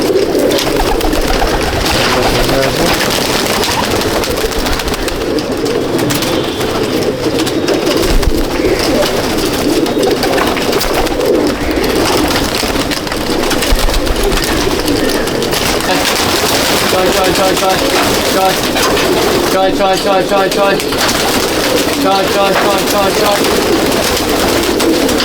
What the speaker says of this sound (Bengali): সমস্ত female পায়রা